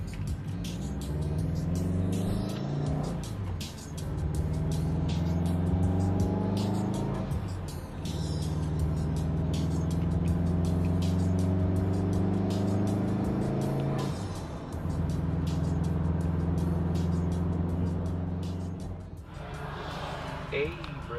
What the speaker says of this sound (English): I push the clutch in and blip the throttle, just like put it to the floor a little bit, and get the revs to where they would be in the next gear